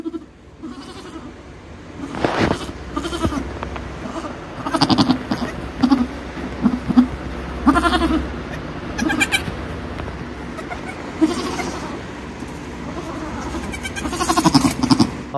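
Goats bleating on a farm, several loud bleats scattered across the stretch, some close and some farther off, with a low engine or vehicle rumble in the background and no speech.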